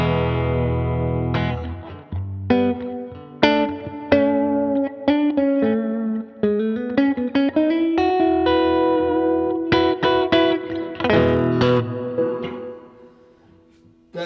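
Electric guitar played through a 76owl Owldrive overdrive pedal set for mild, warm grit. Single notes and chords ring out with sustain and light breakup in a close, solo phrase with pauses between picks.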